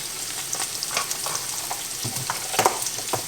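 Vegan butter melts and sizzles in a hot pan for green beans, a steady close crackle of frying with scattered sharper pops and a few brief clinks, no voices.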